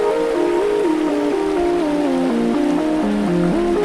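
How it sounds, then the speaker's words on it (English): Steady rushing of creek water in Sedona, Arizona fills the background while a stepping melodic tone drifts over it, continuous and fairly loud. "Just me, the creek, that sound."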